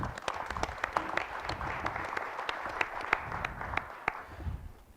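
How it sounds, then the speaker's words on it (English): Audience applause for a sponsor at a community tech event in Oregon, a steady crowd clapping with dense overlapping hand claps throughout, fairly close and sustained, fading slightly at the end. "So round of applause for Puppet."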